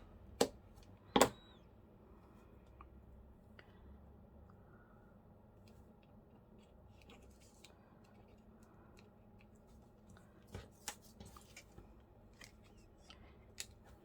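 Scissors snip a piece off a junk journal card made from a picture frame: two sharp cuts close together near the start, then a longer stretch of quiet handling with scattered light ticks and a few faint snips toward the end.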